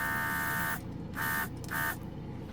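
An electric spray gun for plastic models runs in three short bursts inside a spray booth, each a steady buzzing whine with a constant hum from the booth beneath, heard alone and fairly close.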